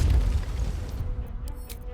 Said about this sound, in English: But we gotta get out of this airstrike.